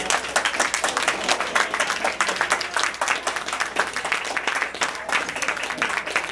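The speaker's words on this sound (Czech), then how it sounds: "Tak děkuju a potlesk pro nás pro všechny" Dense, steady applause from a crowd at a Christmas charity event for dogs in a Plzeň saloon, loud and sustained throughout with no talk over it.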